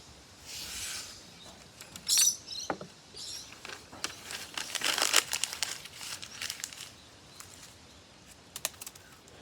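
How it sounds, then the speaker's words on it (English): Paper blowing around outdoors during a knife rope-cutting test, crinkling and rustling in irregular bursts with sharper crackles, close by and fairly soft, no voices. "As soon as this paper though blows all over the place, makes it hard."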